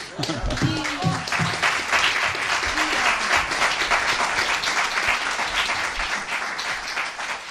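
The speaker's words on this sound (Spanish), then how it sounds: "No aplaudan más, por favor" An audience applauds steadily through a stage presentation about Isabel la Católica, a dense, continuous wash of many hands clapping at even strength from start to finish.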